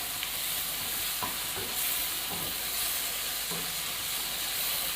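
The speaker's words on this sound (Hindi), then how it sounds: "इस मसाले को हम थोड़ा सा भून लेते हैं।" A spice masala with turmeric sautés in a pan, a soft constant sizzle broken by a few light scraping stirs, close up and without any speech.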